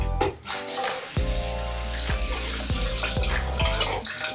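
Warm water running from a tap into a sink, a steady close rush of flow with some clinks, no talk.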